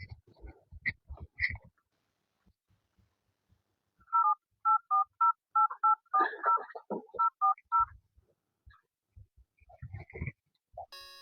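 A telephone number is dialed as a quick series of short, distinct keypad tones, with faint rustling and handling noises before and after.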